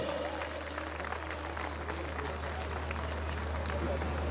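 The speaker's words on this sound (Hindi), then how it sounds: "इस सदन को गुंजायमान कर दो अपनी तालियों से, एक बार करतल ध्वनियों से, जोरदार आवाज से।" Audience applause fills an assembly hall, steady and dense throughout, under a constant low electrical hum with a faint voice or crowd murmur mixed in.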